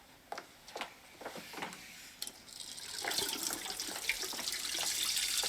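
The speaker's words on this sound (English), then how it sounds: "I'm just running some cold water on my wrists." A kitchen or bathroom tap runs cold water, a steady close hiss and splash that builds and grows louder in the second half after a few brief knocks and clatters at the start.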